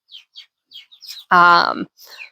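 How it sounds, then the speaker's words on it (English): Baby chicks just out of the brooder peep and chirp in short high notes, with a louder, fuller call in the middle; the sounds are close and sporadic. "They still have their baby voices, as you can hear. They're still peeping more than chirping"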